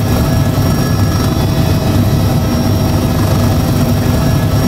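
A UH-60 Black Hawk helicopter in slow flight on approach at about 30 knots gives a loud, constant rotor and engine roar filling the whole clip, with no voices.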